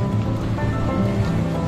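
Steady rain falls during a mountain hike on Gunung Andong, arriving at the first trail post: a continuous, dense wash of drops with no voices, holding an even level throughout.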